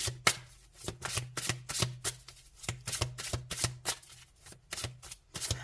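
Tarot cards handled during a reading, a brisk run of crisp card snaps and slaps on a surface, repeating quickly and steadily and heard close up with no talking.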